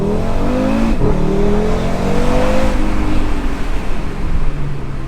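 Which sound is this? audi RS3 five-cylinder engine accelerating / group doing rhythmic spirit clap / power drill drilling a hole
audi RS3 five-cylinder engine accelerating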